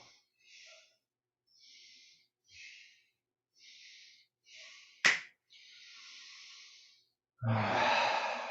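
A person exhales slowly through the mouth during a guided breathing session: a series of soft, airy breaths at an even pace, one sharp click, then a longer, louder breath out at the end, all close and quiet with no talk.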